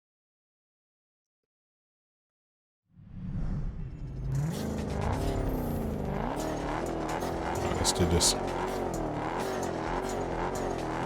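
An upgraded car in the racing video game Test Drive Unlimited Solar Crown roars to life after silence, then revs and accelerates steadily in a loud, close time-attack run with rising and falling engine pitch and a little tire noise, as a voice speaks briefly.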